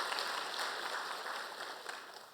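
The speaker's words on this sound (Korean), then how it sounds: "우리 격려 박수 한번 칩시다" A church congregation claps in encouragement during a Sunday sermon, a steady, fairly quiet wash of many hands that holds evenly throughout and fades slightly toward the end.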